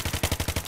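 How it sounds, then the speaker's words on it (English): MG36 machine gun firing in Battlefield 3, a rapid burst of about eight evenly spaced, close and loud shots with no talk. "Just shoot you a few times so you turn around, and I'm gonna shoot you in the feet."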